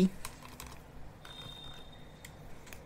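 Keys tapped on an HP laptop keyboard while entering a Windows 11 command, a sparse series of light clicks with pauses between them, close and fairly quiet.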